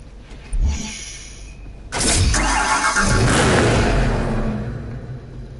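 A Bugatti Veyron 16.4 engine in the video game Need for Speed Hot Pursuit Remastered cranks and roars to life, a loud, rough revving growl that holds steady, then settles slightly toward the end.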